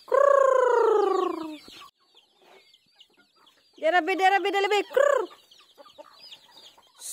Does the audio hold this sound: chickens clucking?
yes